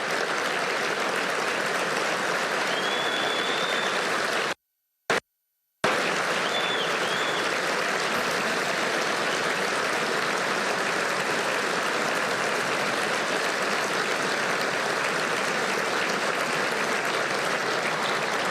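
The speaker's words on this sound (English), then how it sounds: "Please stand up and let's give them a big round of applause." Sustained loud applause from a large awards-ceremony crowd, steady clapping that continues for a long stretch with a brief cut partway.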